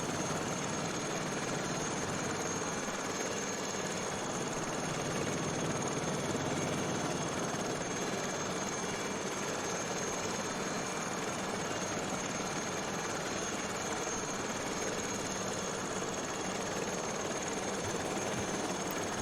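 Lama SA315B helicopter in Microsoft Flight Simulator 2020, with a steady turbine and rotor drone that stays even and unbroken throughout, fairly quiet and alone with no voices.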